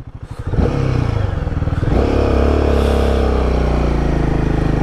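A motorcycle with trouble shifting from second to first gear climbs uphill on a truck-heavy road, its engine droning loud and steady as it revs up and holds a strained pitch.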